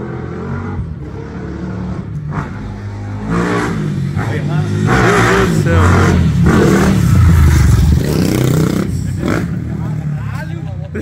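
A Honda CG 160 motorcycle bored to 240cc revs repeatedly outdoors, engine surging louder in bursts while several people talk over it throughout.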